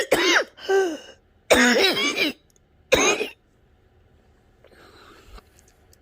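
A COVID-19 patient coughs in several harsh, raspy bursts, two or three hacks per fit with short gaps between, close and loud, then a quiet breathy pause near the end.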